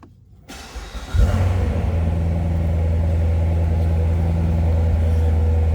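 A 2018 Chevrolet Corvette Grand Sport Convertible 3LT cranks briefly, then its engine fires with a sudden loud roar and settles into a deep, steady idle with variable exhaust, close and powerful.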